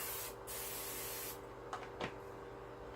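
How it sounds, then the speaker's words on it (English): A continuous hiss of aerosol nonstick cooking spray onto a waffle maker for about a second and a half, close up, followed by a couple of faint clicks. "we're going to take nonstick spray. We're going to spray our waffle maker"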